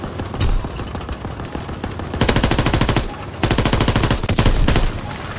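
Machine gun fire in the World War II shooter Call of Duty WWII comes in loud, close bursts of rapid rhythmic shots, with short gaps between long volleys over a noisy battlefield backdrop.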